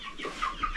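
Roosters on a New Hampshire farm raising meat birds give short, close clucking calls in a quick burst, with no talking.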